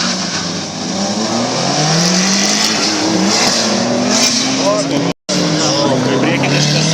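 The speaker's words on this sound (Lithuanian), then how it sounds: "su Audi 90 bando aplenkti svečią iš Latvijos" An Audi 90 race car roars past another car at an airfield drag racing event, loud sustained engine notes climbing through gears, while a commentator talks over the noise.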